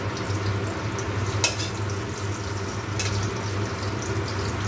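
Pumpkin pieces fry gently in a pan for a vegetarian ghugni, making a steady, close sizzle with a couple of brief crackling spikes and no talking.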